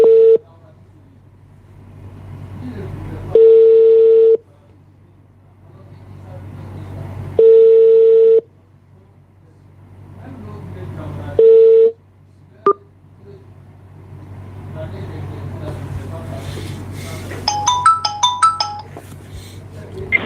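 A telephone call rings through as a repeating electronic tone in several evenly spaced beeps, followed by background hum, a sharp click and a brief cluster of keypad tones.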